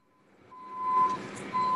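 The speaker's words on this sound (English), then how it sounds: "I hear a truck back" A truck's reversing alarm beeps steadily outside, a few faint tones heard under muffled engine rumble at a distance.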